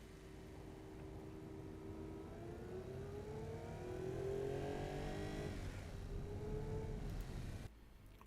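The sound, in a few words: car driving around test track in video game Automation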